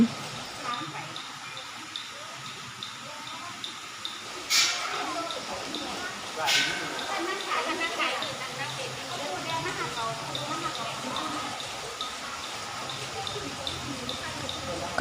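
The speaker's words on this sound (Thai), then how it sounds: "จะมีน้ำตกจำลองนะคะที่ทำขึ้นมา" Water pours steadily at an artificial waterfall by a cave mouth at a hillside temple in Khon Kaen, a continuous splashing wash that runs the whole time beneath a voice speaking Thai.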